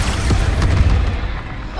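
Expulso, a blasting spell in the Hogwarts Legacy video game, detonates with a loud, heavy boom and deep rumbling roar that swells then slowly fades, with no voices over it.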